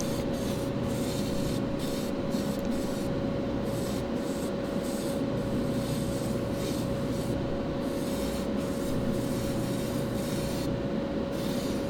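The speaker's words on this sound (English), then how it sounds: "Keeping my airbrush moving across the casting." An airbrush sprays paint steadily across a resin or metal casting, a continuous close hiss that holds without pause, with small tonal shifts as the spray pattern passes over the part and no talking.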